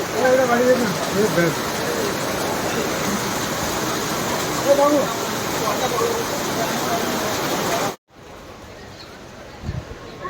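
Heavy rain hisses steadily outside in Port Blair with faint voices underneath, then abruptly drops away to a much quieter, muffled background near the end.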